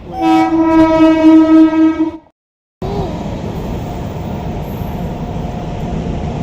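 A loud, sustained train horn blares for about two seconds, then cuts out; after a short gap, the steady rumble of a passing train continues.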